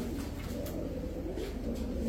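A male Toti pigeon coos in low, throaty rolling tones, steady and close throughout, with no talk over it.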